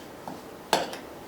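A utensil scraping and clinking against a bowl while mixing a chunky homemade coffee scrub: a faint tap, then one sharper close clink and a softer follow-up, brief and isolated.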